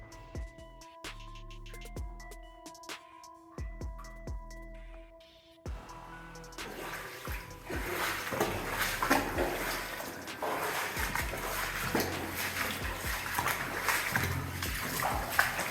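Someone wades through water in an abandoned coal mine, with sloshing and splashing that grow into a continuous churn of water after some sparse, echoing drips and knocks.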